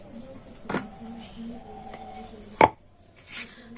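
Dough made from leftover cooked rice being cut into portions with a knife on a board, with a couple of sharp, distinct chopping knocks standing out against quiet room tone.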